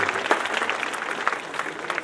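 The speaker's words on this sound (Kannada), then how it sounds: "ನಿಮ್ಮೆಲ್ಲರ ಜೋರಾದ ಚಪ್ಪಾಳೆಯೊಂದಿಗೆ" Audience applause welcoming a guest at a college function, with brisk, dense clapping from a hall full of people, steady across the brief moment and free of speech.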